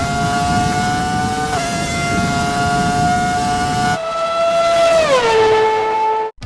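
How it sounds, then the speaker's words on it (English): A classic Formula 1 car in an F1 video game screams at high revs with a sustained piercing engine whine, shifting pitch at a gear change, then winding down sharply toward the end. "the noise these cars make is insanely good"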